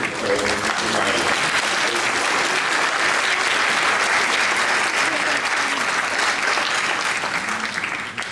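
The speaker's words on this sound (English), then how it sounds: "Please give an applause to our host here." Applause from a crowded hall at an international conference in Istanbul on employing persons with disabilities, thanking the host. The clapping is loud, dense and sustained throughout, then tapers slightly at the end.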